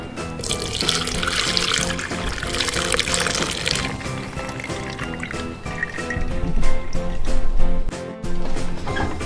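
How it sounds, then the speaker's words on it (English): Hot fireweed and wild chamomile flower liquid poured slowly into a strainer, a steady close splashing pour that runs continuously, with brief heavier gushes near the end. "Pour it into the strainer slowly."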